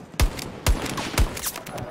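Three heavy rifle shots fire in quick succession in Battlefield 2042, each a close punchy crack with a booming low tail, spaced about half a second apart.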